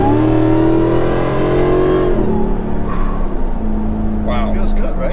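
A Jeep Gladiator swapped with a Hellcat engine of over 750 hp revs hard and rises in pitch as it accelerates and its rear wheels break loose, loud and close, with voices talking over it.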